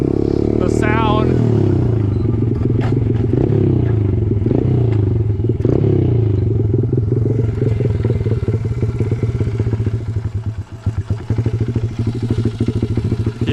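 A custom Honda CRF50 pit bike engine runs steadily, a loud, buzzing small-displacement idle with rattly mechanical clatter throughout, close to the listener and continuous for the whole stretch.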